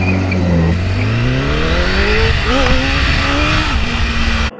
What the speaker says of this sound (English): Come on, just a little blip on the throttle.